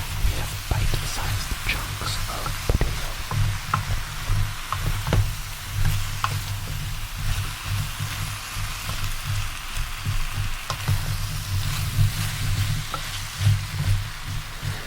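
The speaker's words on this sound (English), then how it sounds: "Making sure everything gets a good stir." A Korean stew with bite-sized potato chunks being stirred in a pot, close crackling sizzle with wet scraping and light clinks of the spoon, continuous and steady, with faint low speech at times.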